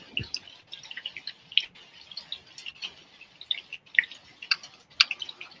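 Small, sharp drips of a faucet fall into an empty sink one after another at an uneven pace. The drops sound faint and close over a low hiss, with no voices.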